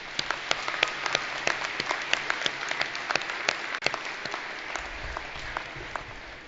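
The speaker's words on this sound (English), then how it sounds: "So let's give them a round of applause." Crowd applause at an outdoor celebration at the Bison Range for a middle school Native Studies group, continuous clapping with distinct sharp claps near the microphone, steady and moderately loud, tapering slightly toward the end.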